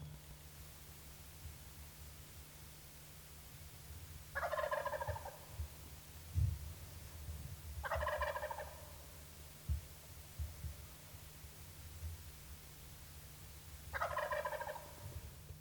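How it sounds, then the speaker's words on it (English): Wild turkey gobbling three times at a distance, each rattling call spaced a few seconds apart over a low steady hum and faint nearby rustles. "He really gobbled well."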